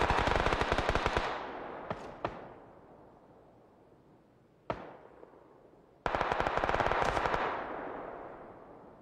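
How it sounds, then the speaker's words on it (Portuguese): Video game gunfire: a loud close burst of rapid automatic fire, two sharp single shots, a lone shot after a pause, then another long automatic burst, each ringing out and decaying, with no talking. "Caramba, eu atirei sem querer."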